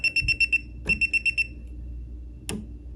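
Electrical tester beeping on a live circuit after a breaker is switched back on: two quick bursts of five sharp high electronic beeps each, followed by a single click, heard up close in a quiet room.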